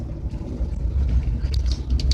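A front-mounted diesel engine in an automatic RV drives along roads near Dover, giving a continuous, fairly loud low rumble and drone with a slight rise and fall.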